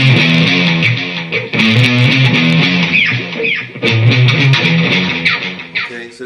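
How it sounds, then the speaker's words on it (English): Heavily distorted, palm-muted electric guitar chugs in tight rhythmic bursts, loud and close, with short pauses between phrases. "you can get varying degrees of distortion and splatter by varying how much you mute with the heel of your hand"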